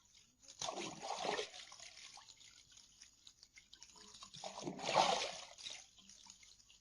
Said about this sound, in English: She's taking a bath in her hotel room.